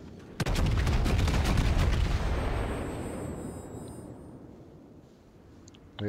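A single heavy naval cannon blast from the battleship Amagi in World of Warships booms out, followed by a long rolling rumble that slowly fades into quiet ambience.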